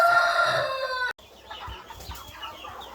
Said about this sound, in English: So these are our meat chickens.